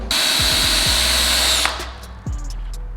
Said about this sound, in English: we just have a little wire wheel brush on the drill, and we'll get to grinding down all the silicone